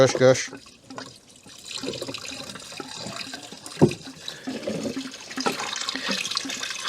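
Coolant gushing and splashing as it drains out of a Ford Fairmont AU into a catch container, a steady liquid pour with a sharp knock midway, heard under nearby conversation.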